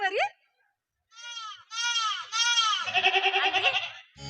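A young lamb bleats in a series of quavering, wavering cries, clear and close, with short pauses between calls and a longer trembling bleat near the end.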